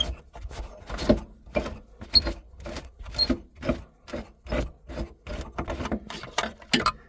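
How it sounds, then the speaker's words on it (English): Ford Fiesta spare tire wing nut being turned counterclockwise by hand, giving a series of close, repeated scraping and creaking rubs in an uneven rhythm, with no talk. "now to remove the spare tire, I'm gonna turn this wing nut counterclockwise"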